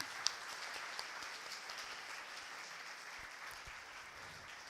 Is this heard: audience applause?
yes